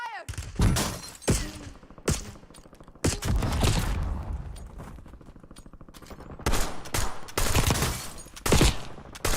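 Rapid gunfire in a shooter video game: dense bursts of machine-gun fire and heavy thuds, loud and close, with a few brief pauses between volleys and some breaking-glass crashes mixed in.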